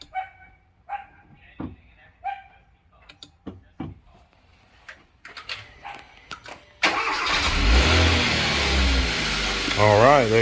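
Hyundai Sonata engine cranking and catching after a jump start: scattered clicks and a dog barking at first, then the engine turns over and settles into a loud, steady running rumble.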